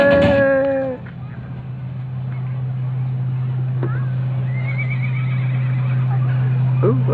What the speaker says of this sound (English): Ooh, I hear the horse.